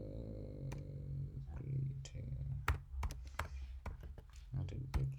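Fingers type on a computer keyboard in short irregular bursts of sharp clicks and taps, close and fairly quiet, while someone talks steadily over them.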